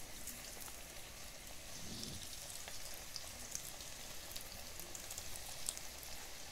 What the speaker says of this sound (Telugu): ఆయిల్ కాగిపోయింది, మనం ఒక్కొక్కటిగా వేసుకుందాం। ఇలా అన్ని డీప్ ఫ్రై చేసుకోవాలి।